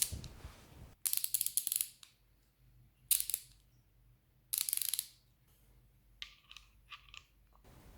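Hazet 916HP fine-tooth half-inch ratchet working its mechanism, giving four short bursts of dense, fast clicking with quiet pauses between them, close and fairly soft, followed by a few lighter ticks.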